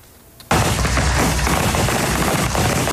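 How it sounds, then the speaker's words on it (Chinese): Israeli soldiers firing from an armored tank in central Gaza let off a sudden loud burst of sustained automatic gunfire that starts after a brief quiet moment and rattles on continuously for over two seconds. "以军士兵在装甲坦克上不断朝哈马斯开枪"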